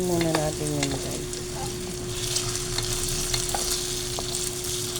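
A brief voice at the start, then a continuous sizzle of potatoes frying in oil with light scraping and clinks from stirring.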